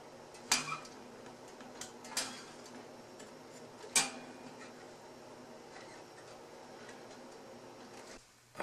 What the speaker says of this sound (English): It's amazing how much noise the clock and the refrigerator makes when you're filming.